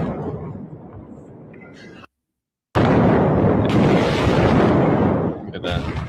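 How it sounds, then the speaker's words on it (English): Massive blasts from missile strikes in Esfahan, a heavy rolling roar that booms, cuts out abruptly, then returns as a louder sustained rumble with crackling bursts, close and overwhelming. "these are some massive, massive explosions"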